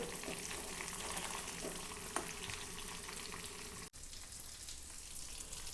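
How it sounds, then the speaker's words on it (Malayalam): Clams fry in a pan with a steady, close crackling sizzle, while soft stirring and turning clicks sound through it and a brief scrape or thud comes partway through. "അങ്ങനെ തിരിച്ചും മറിച്ചൊക്കെ ഇട്ട് നമ്മുടെ കാര ഫ്രൈ റെഡിയാക്കി എടുത്തു"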